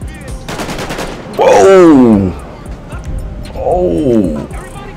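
Bursts of gunfire from the video game GTA 5 crackle early on, then a voice talks loudly over the rest of the game noise.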